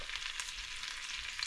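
Garlic sautés in a pan for a noodle and vegetable dish, a soft steady frying hiss heard briefly with no voices.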